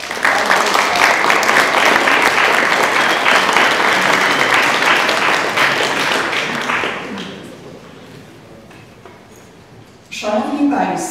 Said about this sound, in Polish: Myślę, że możemy oklaskami panu Mirosławowi podziękować.